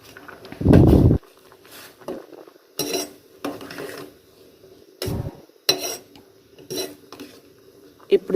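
Spoon scraping and clinking against a pot while carrot rice is stirred with salt and garam masala, a handful of separate knocks and scrapes spaced through a quiet kitchen, one heavier thud near the start.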